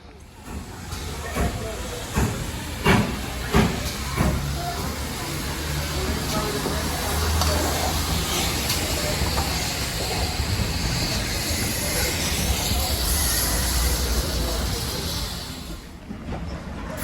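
Steam hiss and rumble from a Dartmouth Steam Railway train at a Devon station, a broad steady roar lasting throughout with a few sharper bursts early on, fairly loud and close.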